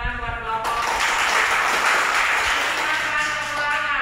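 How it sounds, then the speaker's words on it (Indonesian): Applause for a student group after a class presentation on alternative energy sources, dense steady clapping from a roomful of people that swells and holds for a few seconds, with a voice speaking near the start. "Ya, beri tepuk tangan buat kelompok."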